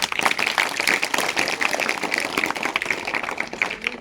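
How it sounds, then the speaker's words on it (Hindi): An audience at a Vidya Bharati general-knowledge and sports competition applauds a prize winner, with dense, steady clapping that stays loud and even from start to finish. "विकास के लिए बहुत बहुत तालियां"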